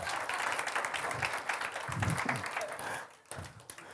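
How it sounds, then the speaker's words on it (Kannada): Congregation clapping during a Sunday sermon on giving, a scattered fluttering of hand claps at moderate distance, swelling in bursts and thinning toward the end, with some murmured voices underneath. "ನೋಡಿ ಹೆಂಗೆ ಚಪ್ಪಾಳೆ ತಟ್ತಾರ."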